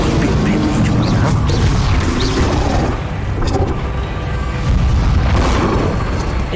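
Rapid Confringo fire-spell blasts in Hogwarts Legacy combat, a dense, loud run of booming explosions and crackling bursts with no pauses, a brief lull midway before the barrage swells again.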